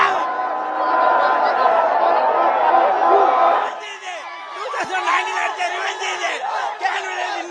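At Shivaji Park, cricket fans celebrating India's Champions Trophy 2025 victory raise a loud, dense crowd roar of chanting and shouting that thins into scattered whoops and excited chatter, with talking mixed in.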